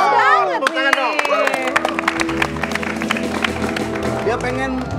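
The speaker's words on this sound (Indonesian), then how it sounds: "Tepuk tangan dong" A crowd bursts into dense clapping and cheering after a few loud shouting voices, the applause continuing steadily to the end.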